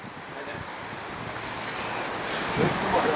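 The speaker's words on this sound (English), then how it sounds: "Wow, high wind session." Strong wind roars across the microphone during a windsurfing slalom session on open water, a steady, loud, broadband rush that swells slightly toward the end, with surf-like noise and no clear voices.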